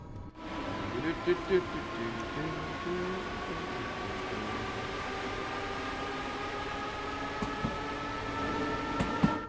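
Talent 2 German electric multiple unit running in Train Sim World 3, a steady droning hum with tonal whine held throughout under a continuous rolling rumble, with a few faint clunks and occasional voice.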